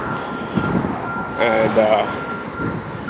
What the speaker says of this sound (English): this truck just had to be here making that noise